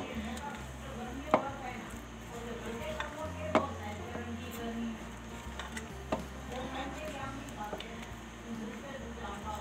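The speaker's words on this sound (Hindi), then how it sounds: "आपने इसको एक ही डायरेक्शन में चलाना है, मिक्स करना है।" Chocolate cake batter made with butter, vanilla essence and cocoa powder is stirred steadily in one direction in a bowl, giving a soft continuous scraping with a few sharper utensil knocks. Someone talks throughout.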